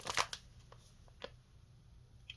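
Jersey trading cards pulled from a mail package rustle and flick in a few quick, close bursts, with quieter scattered handling sounds between.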